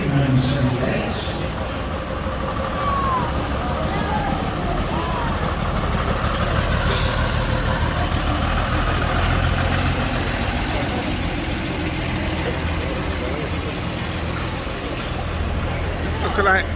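Foden S83 lorry engine idling at a cart marking ceremony at Guildhall in the City of London, a steady low rumble running throughout beneath crowd noise and nearby voices.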